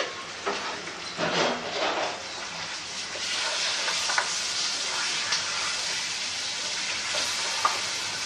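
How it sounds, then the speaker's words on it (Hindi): Masala and yogurt frying in oil in a pot, giving a loud steady sizzle and hiss throughout, with occasional stirring scrapes on top. "और इसको हम भूनते जाएंगे जब तक मसाला तेल ना छोड़ दे।"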